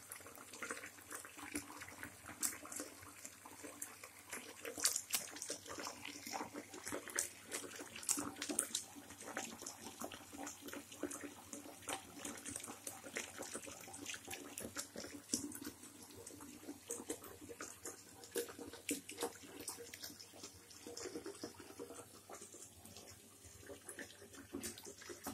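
A tap fills a bathtub used as a pool for a young Cape monitor lizard, with a steady, quiet rush of running water splashing continuously throughout.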